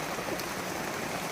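A downpour of heavy rain keeps up an even, continuous wash of noise, fairly soft and unbroken, with no one speaking.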